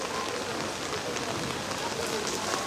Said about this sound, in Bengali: দেখতে পারতেছেন বৃষ্টি পড়তেছে